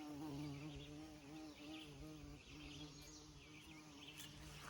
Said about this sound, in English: The bee is over here enjoying the asparagus patch.